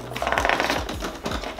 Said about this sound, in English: Please don't mind the crinkles.